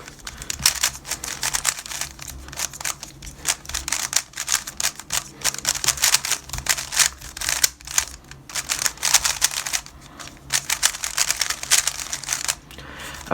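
A GAN 11 M Pro speed cube turned rapidly during a solve, producing dense, continuous plastic clicking and clacking at close range with no pauses, steady and fairly loud throughout.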